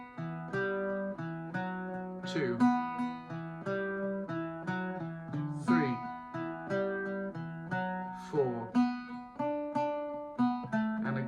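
Irish bouzouki picking out the A section of The Butterfly, a steady run of plucked, ringing notes over droning lower strings, close and clear, with a voice briefly counting along.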